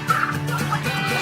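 Domesticated farm turkeys raised to maturity over 20 to 24 weeks gobble and cluck together in a dense, continuous chorus, close and loud, with no talk.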